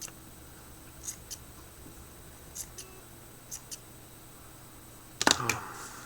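Scissors snip the top off a small item at a vape build bench, a few faint clicks followed by one louder close snip near the end, in a quiet room.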